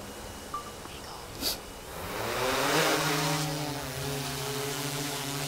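A small quadcopter drone lifts off outdoors with its propellers whirring into a steady buzzing hum, noticeably quieter than a Mavic Air, rising in pitch and level after a couple of soft clicks, and nobody speaks.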